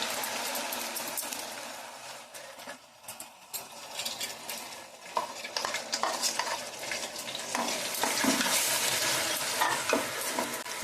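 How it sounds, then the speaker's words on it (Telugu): Onion paste fries in a pan of curry leaves and green and red chillies, the base for a small-fish curry. A continuous close sizzle is broken by frequent scraping stir strokes and occasional clinks, with no talking. "ఉల్లిపాయ కొద్దిగా వేగనిద్దాం"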